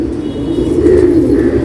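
A patta pigeon coos in one steady, close and loud low call lasting under two seconds, with no voices over it.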